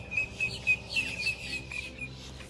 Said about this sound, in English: over here at the main pond, it's just an absolute cacophony of bird song.